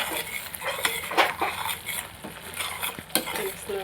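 Tomatoes fry in a pan for a prawn curry while a spoon stirs them, sending repeated scraping strokes over a soft, steady sizzle at close range.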